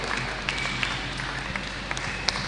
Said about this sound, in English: We can have another round of applause